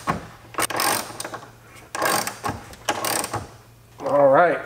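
A hand ratchet with a 20 mm socket clicks in a few short bursts, tightening a Raceseng Tug tow hook on a BMW E92 M3, and a brief vocal sound follows near the end.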